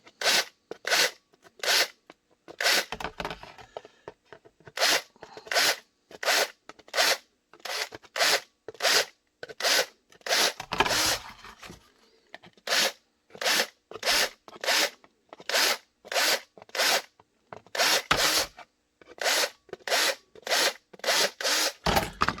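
Drilled holes get deburred by hand in a long run of quick, evenly spaced rasping strokes, close and crisp, with a few brief pauses between sets and no speech.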